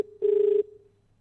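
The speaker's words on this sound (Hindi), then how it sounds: "अभी आप रिंग जरा ध्यान से सुनिएगा" A telephone rings out while a hospital doctor is being called, a single buzzing ring tone heard close over the line, starting abruptly and stopping after about half a second, leaving a fading steady hum.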